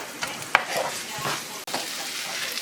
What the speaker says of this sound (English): Okay, so we are gonna fry a little bit the Holy Trinity.